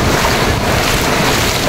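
Sea waves wash onto the shore in a steady, loud roar mixed with wind buffeting the microphone, continuous with no voices.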